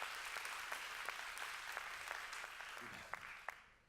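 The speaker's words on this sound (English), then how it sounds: "So just a round of applause for them." Audience applause at a culture summit comes as a dense, steady patter of many hands, moderately distant, before tapering off with a few last claps near the end.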